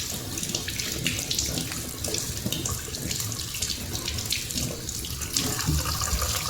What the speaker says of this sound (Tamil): முருங்கைக்காய், உருளைக்கிழங்கு, மாங்காய் இவங்களெல்லாம் ஒரு கழுவிட்டு